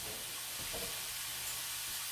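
Ground beef breaking up and frying in a pan gives a steady, soft sizzling hiss with a few faint scraping stirs, low in volume and continuous throughout.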